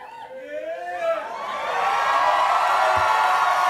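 Studio audience at a late-night talk show with Robert Downey Jr. as guest breaks into cheering and whooping, starting with scattered shouts and swelling into a loud, sustained roar of cheers and applause.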